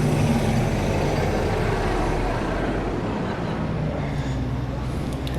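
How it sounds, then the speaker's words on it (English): A garbage truck rumbles on a city street at night, a steady loud low engine drone with road noise close by, and a faint voice mixed in. "I don't want to go near the wheels of a garbage truck."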